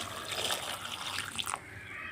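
Water poured into a pot of Bengal gram (chana) dal for kuzhambu, a soft continuous splashing pour that stops partway through and leaves quiet background.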